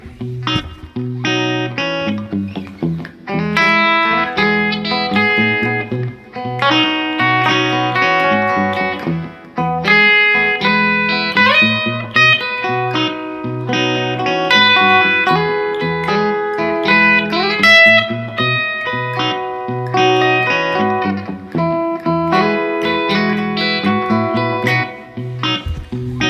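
Electric guitar plays a steady run of picked chord tones, clean and sustained, note after note with no voices.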